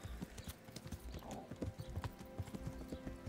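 Rhythmic clip-clop of horse hooves at a walking pace in Kingdom Come: Deliverance, fairly quiet and steady, with a soft snort partway through.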